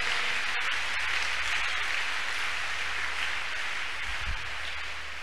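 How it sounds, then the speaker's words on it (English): A church congregation claps their hands during a worship service, a dense, continuous wash of many hands that stays steady and loud throughout without distinct individual claps standing out. "Clap your hands unto God of the chosen."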